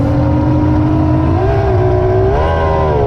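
An outboard motor on a Charger STV boat drones loudly and steadily on the water, its pitch stepping up twice as the engine is throttled higher.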